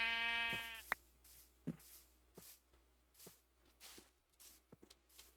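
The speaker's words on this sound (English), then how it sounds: "Sheep." One short sheep bleat sounds near the start, followed by scattered soft footfalls and rustling in an otherwise quiet setting.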